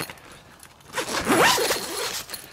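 A zipper on a motorcycle camping tent fitted with small glow-in-the-dark pulls is drawn once in a quick rising zip, close and clear against a quiet background.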